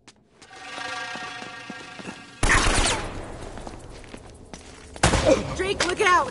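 Heavy gunfire from the Uncharted video game comes in two loud volleys of rattling shots with footsteps between them, while a voice talks quietly under the opening stretch.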